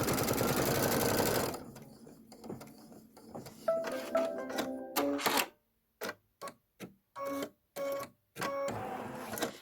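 An embroidery sewing machine stitches an embellishment with rapid, mechanical whirring and clicking, starting with a steady run, then breaking into short start-stop bursts separated by silent gaps.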